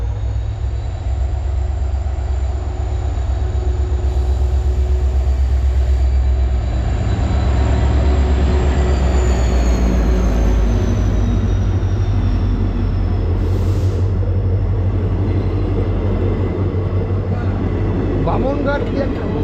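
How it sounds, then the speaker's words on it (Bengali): Local train passing through forest country, a loud approaching rumble of rolling wheels that swells mid-clip then recedes, with a high steady whine and brief squeals, and a person talking over it. "উত্তর খয়ের বাড়ি আসছে, মোস্ট প্রবাবলি লোকাল ট্রেন।"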